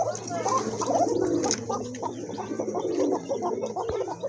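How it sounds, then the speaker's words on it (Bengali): A pair of Koka pigeons, male and female, give rough, guttural coos close by in quick rhythmic bursts, with a person's voice briefly mixed in. "এখানে কিন্তু আপনার দুইটা কবুতরই খুব ভালো ডাকে, মাদিটাও মাশাআল্লাহ অনেক ভালো ডাকে"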